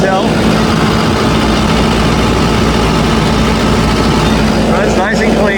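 A 2021 Kubota SVL75-2 tracked skid steer's diesel engine runs steadily at close range, a loud, even low rumble throughout, with a voice talking over it.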